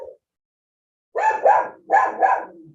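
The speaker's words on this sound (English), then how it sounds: "My dog barking is so on brand." A house dog barks at a passerby outside: four loud, close barks in two quick pairs after a brief faint sound, with no talking.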